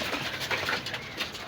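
Mixed pigeons at a pigeon market in Gollamari, Khulna give faint, intermittent coos and rustles against a continuous murmur of market background noise.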